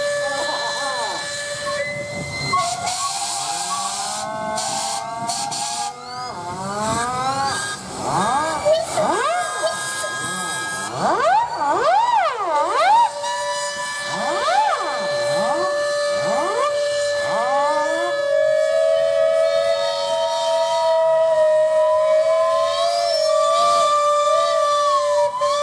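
Steam engines at an outdoor steam show sound repeated whistles, some long and sustained, others rising and falling in pitch and overlapping, loud and close with hissing steam and light crowd chatter underneath.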